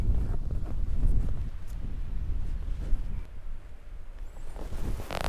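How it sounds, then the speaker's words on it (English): Steady wind buffeting the microphone on the PGA West Jack Nicklaus Tournament Course, a broad low rumble that holds nearly constant, easing slightly late, with no voices. "Wind just picked up. Wind's in the face a little bit."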